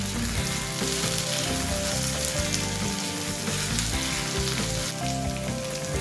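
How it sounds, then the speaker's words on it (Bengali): Cubed medium-sized onions sizzle in hot oil with a dense, continuous frying hiss, while musical tones play over the sizzle throughout. "তেলটা গরম হয়ে গেলে এর মধ্যে আমি পেঁয়াজ অ্যাড করে দেবো।"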